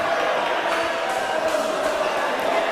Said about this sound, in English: the crowd is getting somewhat involved in the game this afternoon